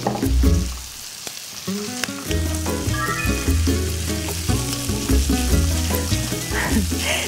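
Shrimp and rice stir-fry in a hot pan, producing a steady loud sizzle with scraping and stirring strokes, set against a tonal, music-like background.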